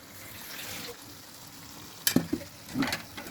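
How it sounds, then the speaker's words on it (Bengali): Water splashes into a hot kadai of frying chicken, setting off sharp sizzling bursts over a low background simmer; two loud hisses rise late, close by and without talk. "পানিটা যেই কড়াইটায় মুরগি ভাজছি এটার মধ্যেই ধুয়ে পানি দিয়ে আর একটু পানি দিতে হবে"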